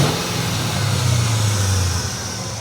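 A 1999 Mustang Cobra engine runs smoothly with no rod rattle, a steady, loud, close mechanical hum with a low rumbling tone that holds even without changes in pitch.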